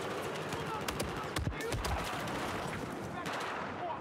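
Rapid gunfire in the video game Battlefield 4, a dense rattle of repeated shots over a constant game background, with voices talking over it.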